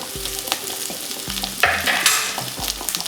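Onion and carrot sizzle steadily in a hot pan while a utensil stirs and scrapes through them a few times.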